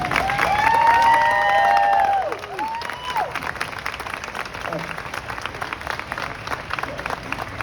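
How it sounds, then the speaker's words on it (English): A convention audience at SharkCon 10 applauds and cheers for a Jaws panel. Someone speaks for the first two seconds, then sustained clapping and scattered cheers fill the room. "can we have a round of applause for our Jaws panel?"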